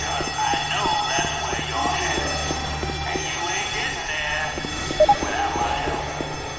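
An alarm going off in the Left 4 Dead 2 video game: a steady electronic tone repeating in a regular rapid pulse, with faint voices beneath it.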